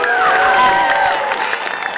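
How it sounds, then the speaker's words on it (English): Audience at an airline symposium in Colorado cheering loudly, a close burst of shouts, whoops and high-pitched yells from the crowd that stays strong for about two seconds. "Let me hear you cheer."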